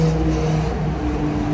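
Cars pass along a busy cobblestone street in Rome, a steady close traffic drone with engine hum and tire noise and no voices.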